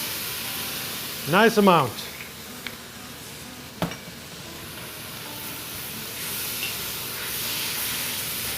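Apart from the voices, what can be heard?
vinegar deglazing a hot pan, sizzling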